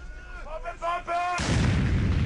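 A hand grenade goes off in a Danish-language multiplayer war shooter, a sudden loud blast at about 1.4 seconds that roars on through the end after a voice shouts briefly beforehand.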